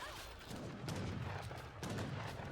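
Light cannons fire in the video game Age of Empires III as a few muffled booming shots, heard at a distance among low battle rumble.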